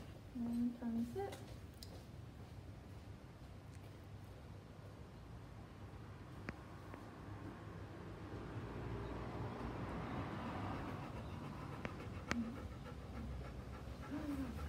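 A dog panting quickly and steadily at close range, a soft continuous breathy rhythm under low background noise, with a short burst of human speech near the start.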